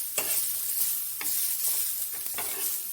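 Small onions sautéed in a pan for a beetroot chutney, stirred with a utensil: a steady sizzle runs throughout, broken by a few scraping stir strokes. No one speaks.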